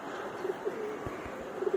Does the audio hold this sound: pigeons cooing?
yes